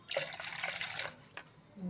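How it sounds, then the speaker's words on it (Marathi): Water is poured into a bowl of yogurt and flour mixture for kadhi, a brief splashing trickle lasting about a second, followed by a few faint drips, close and fairly soft. "आपण थोडंसं पाणी टाकून घेऊया"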